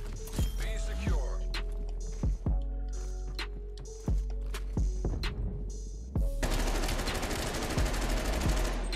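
Groza rifle in the video game Black Ops Cold War firing in sharp, spaced shots and short bursts, loud and close, ending in a sustained noisy stretch of heavier fire and rumble.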